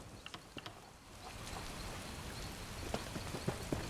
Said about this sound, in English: I could do without this damnable rain. It's been storming since we arrived, and it shows no sign of letting up.